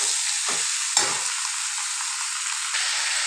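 Ground spice paste hitting a hot pan of chicken curry, giving a loud continuous sizzle with a couple of short stirring knocks near the start.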